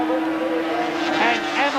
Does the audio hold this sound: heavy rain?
no